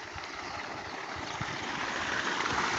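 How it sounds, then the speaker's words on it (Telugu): Electric water pump motor running, a continuous broadband rush like flowing water with a low rumble, steady and gradually a little louder, no talk. "మోటార్ రన్నింగ్ అయింది."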